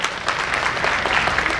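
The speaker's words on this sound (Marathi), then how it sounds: "मनापासून जरा टाळ्या वाजवा जरा हातात." Steady applause from a ceremony audience at a retirement function, dense continuous clapping at even loudness with no voices over it.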